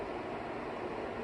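Steady airflow roars from a Loytio HY1800 air purifier set to its third fan speed, a dense, constant close-up whoosh heard alone without any voices.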